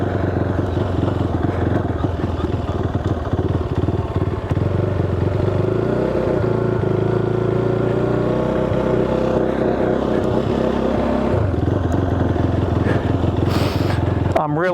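A KTM 390 Duke motorcycle engine idling and surging unevenly after throttle body removal, its pitch rising and falling in a steady drone, close and loud throughout.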